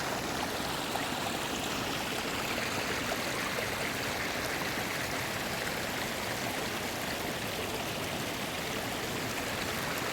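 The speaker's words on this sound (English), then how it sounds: "This is the third little creek bed that you will cross." Continuous rushing and babbling of a small creek flowing over rocks on a trail near Whitewater Falls in November, steady and close, with no voices.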